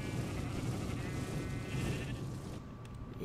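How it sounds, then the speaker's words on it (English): Soft video game sheep bleats sound faintly over a steady background hum, brief and somewhat muffled. "Oh, sheep! Hi, sheep."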